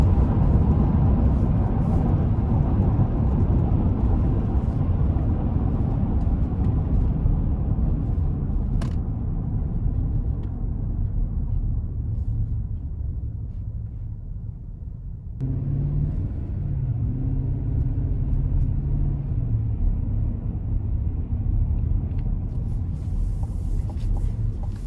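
Steady low road rumble and wind hush inside a 2025 Chevy Suburban LS cruising on an interstate, fairly loud and continuous, with a brief dip and shift in tone midway and no talking.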